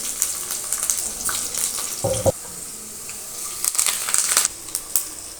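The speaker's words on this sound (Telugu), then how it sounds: "వెల్లుల్లి కొంచెం వేగిన తర్వాత మిగతా పోపు దినుసులన్నీ వేసేసుకోవాలి." Garlic and tempering spices frying in hot oil, giving a continuous crackling sizzle with bursts of sputtering and a brief clink of a utensil midway.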